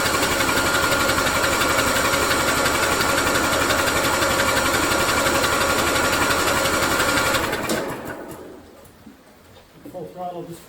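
A Scotts 1742S lawn tractor engine runs loud and steady with a dense, buzzing drone for about seven seconds, then cuts off abruptly, leaving quieter clicks and faint background noise; speech is flagged but no clear words come through.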